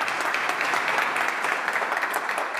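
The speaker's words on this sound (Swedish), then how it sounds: "Och en varm applåd." Warm applause from an audience at a Swedish hearing fills the space steadily and at full strength, a dense continuous wash of many hands clapping, with no talk over it.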